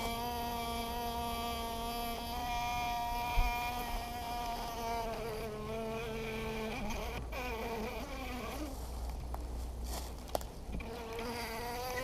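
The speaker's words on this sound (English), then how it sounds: "Now we got pissed off bees." Angry honeybees buzzing around a beekeeper at an open hive, a dense, continuous, high-pitched drone of many bees with individual insects sweeping close past, steady throughout with no talk.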